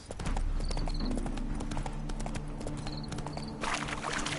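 Horse hooves clip-clopping in The Witcher 3, a steady rhythmic trot of hoof strikes at moderate distance with faint ambient game sound beneath.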